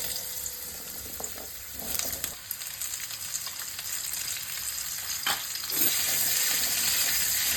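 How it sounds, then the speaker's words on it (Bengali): Okra and potatoes frying in a pan with salt and turmeric, giving a loud, continuous close sizzle broken by occasional stirring scrapes, with no voices present. "ঢেঁড়স আর আলু নুন হলুদ দিয়ে আলাদাভাবে ভেজে নেব।"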